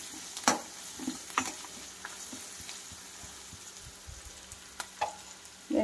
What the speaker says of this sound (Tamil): வெங்காயம் வதங்கிட்டு இருக்கும்போது ஒரு கால் ஸ்பூன் மஞ்சத்தூள் சேர்த்துக்கோங்க